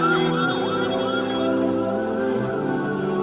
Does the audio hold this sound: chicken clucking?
no